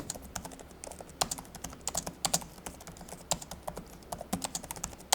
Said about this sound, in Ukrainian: Ось звук друку.